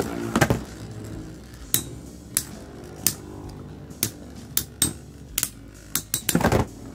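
Metal Fight Beyblade tops Diablo Nemesis X:D and Hades Kerbecs BD145DS clash in a stadium, sharp metallic clicks and knocks at irregular intervals over a faint spinning whir, ending in a quick flurry of hits.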